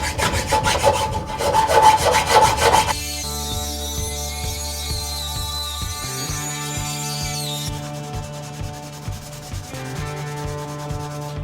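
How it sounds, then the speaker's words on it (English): A power sander grinds against a handmade knife guard, a steady abrasive rasp over the motor's constant hum, changing tone as the metal is shaped and the contact shifts. "So the sander works really good cleaning that up."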